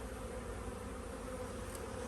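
Bees drone in a steady, continuous hum close by during a hive inspection while they build drone comb from foundation, the buzz even and unbroken throughout.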